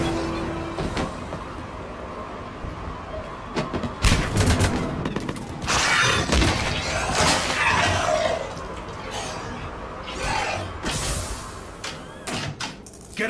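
Mass Effect 3 gunfire during a firefight, with repeated loud shots and bursts over a dense battle din and a few sharp mechanical clanks, plus a little speech.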